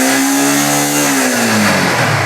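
A 2015 Yamaha R15 V2 motorcycle with about 25,000 km on it revs close by, a loud steady engine note that holds high then drops back toward idle, with no talk over it.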